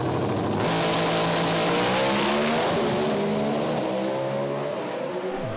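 Two drag racing cars launching down the track, a loud blast of engine roar with rising and falling revving tones as they accelerate away, receding toward the end.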